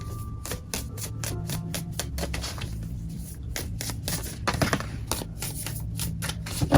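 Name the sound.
shuffling tarot cards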